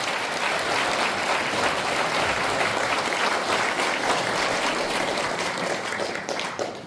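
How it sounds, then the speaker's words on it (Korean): Warm, sustained applause from an audience at a Korean independence-movement commemoration ceremony held by a veterans' association, dense, steady clapping filling the whole stretch without talk and easing slightly at the very end. "뜨거운 박수 부탁드리겠습니다."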